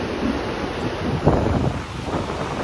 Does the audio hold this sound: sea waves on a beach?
yes